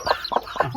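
Mother hen with her chicks clucking nearby in three short, close bursts, each a quick throaty cluck, with little else around them.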